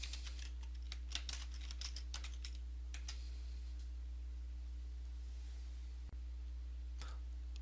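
Fingers tap a computer keyboard in quick irregular bursts, quiet and close, over a steady low electrical hum, the clicks thinning out toward the end.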